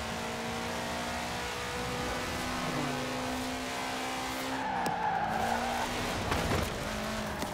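Tires skid and squeal as a tuned car drifts in the racing game Forza Horizon 4, with steady engine drone under continuous screeching; a higher squeal joins midway before the engine revs again.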